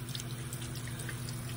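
Tap water runs steadily from a faucet into a sink while makeup brushes and sponges are washed, a continuous close hiss with faint dripping and no talking.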